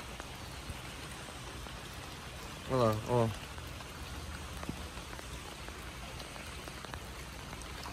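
Rain falls steadily onto shallow standing water in a backyard, a soft continuous patter throughout, briefly interrupted by a man's short spoken remark in the middle.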